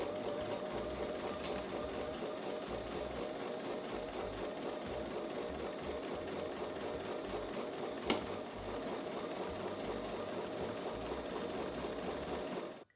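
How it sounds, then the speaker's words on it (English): A sewing machine stitches a quarter-inch seam on a quilt block, running in a steady continuous motor hum with rapid needle rhythm for the whole stretch, close and even, with one brief sharper tick midway and no voices. "I'm going to take those to the sewing machine and sew with a 1/4 inch seam"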